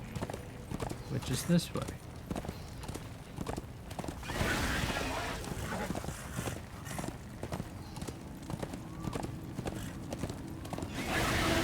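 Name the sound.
horse galloping and neighing in the video game Darksiders 2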